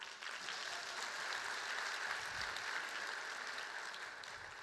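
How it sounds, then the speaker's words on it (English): Faint, distant applause from an audience at an awards ceremony in Jamaica, a soft even wash of clapping for staff members that holds steady for a few seconds. "so you can give them a clap."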